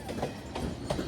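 A westbound Union Pacific freight train passes close by on its way toward Livonia, Louisiana, with a continuous loud rumble and rhythmic wheel clacks over rail joints, no voices.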